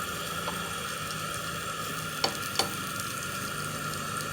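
Breaded ladyfish pieces frying in hot oil, an even bubbling hiss that holds steady throughout, with two brief sharp clicks near the middle.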